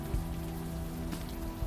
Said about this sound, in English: Does this entire game take place in the rain? Yes. It's always raining.